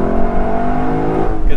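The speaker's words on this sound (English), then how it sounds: "One, so you can hear the engine better" A Lexus LC500 convertible runs with its engine revving, a loud, close, sustained drone that rises slightly in pitch, with a person talking over it.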